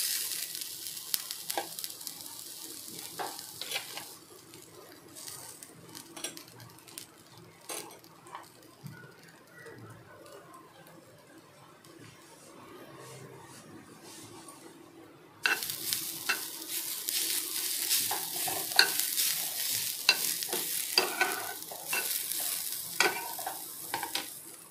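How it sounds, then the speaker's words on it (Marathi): Fresh grated coconut roasting in a pan for a Malvani-style bangda fish curry, with intermittent scraping and stirring clicks over a soft sizzle, turning brighter and busier with a louder hiss in the latter part. "आता मी याच्यामध्ये ओला खोबरा टाकत आहे."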